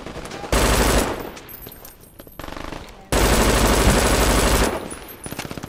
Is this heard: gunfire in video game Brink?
yes